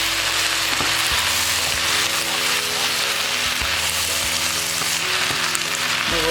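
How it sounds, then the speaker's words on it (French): Onions sautéing in a pan and deglazed with tamari sauce, giving a loud, steady sizzle with occasional clinks of a utensil stirring, close up and without talk. "On va pouvoir déglacer avec un petit peu de tamari"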